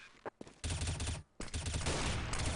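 M4A1 rifle fire in a competitive Counter-Strike match: dense bursts of gunfire broken by two brief gaps, with a commentator talking over the shots.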